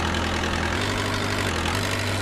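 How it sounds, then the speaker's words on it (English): A forklift engine idles in a virtual reality safety training simulation, a steady low rumble with a constant hum, droning evenly with no talk. "Finally, turn off the engine."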